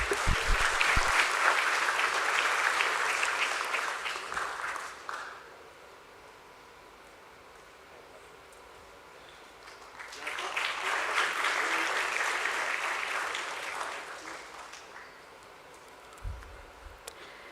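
Audience at a stock exchange listing ceremony applauds in two bursts of steady clapping, separated by a quiet pause, with a brief sound near the end.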